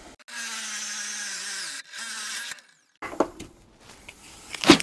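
A 1.5-inch bit bores an overlapping hole in wood. Two steady whining bursts are followed by a pause, then scattered knocks and clatter.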